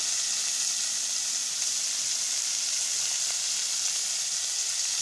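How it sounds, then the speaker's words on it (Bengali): Jackfruit seeds frying in a little oil give a steady, even sizzle and hiss that holds at a moderate level the whole time, with no stirring or voices. "এখানে অল্প তেল দিয়েই ভাজছি তার কারণ কাঁঠালের আঠি ভাজতে বেশি তেলের প্রয়োজন নেই"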